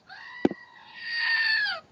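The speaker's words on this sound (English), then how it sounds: "That's the crazy sound it makes. It's a screaming goat." A screaming goat toy pressed at its base gives a click, then a shrill, wavering bleat-like scream lasting about a second, close to the microphone and heard alone.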